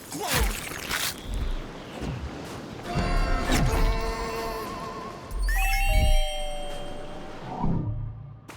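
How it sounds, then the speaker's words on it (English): Bright ding-dong chimes and tonal bell cues ring out in the sci-fi game Revenge of the Savage Planet, several separate chimes over scattered game effects and clangs. "let the ding-dong guide you"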